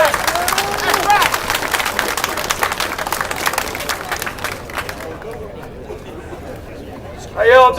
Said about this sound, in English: Looks like we got a good crowd out here.